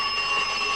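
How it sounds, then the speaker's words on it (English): A shop's alarm bell rings continuously and steadily at close range, loud and unbroken for the whole moment. "Turn the alarm off."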